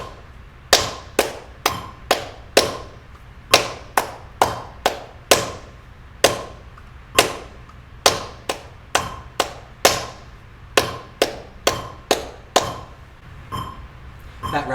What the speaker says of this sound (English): tap the rhythm on your leg as I clap it